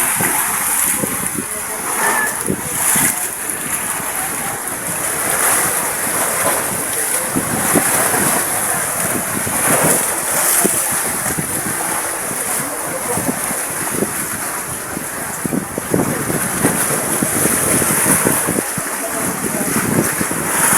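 Strong wind roars steadily across the microphone at sea, with big waves surging and crashing throughout.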